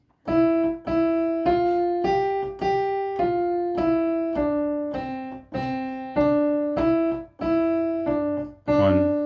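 A piano plays a loud, forceful single-note right-hand melody, each note struck firmly in a steady rhythm with no voices.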